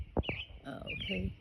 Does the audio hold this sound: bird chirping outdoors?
yes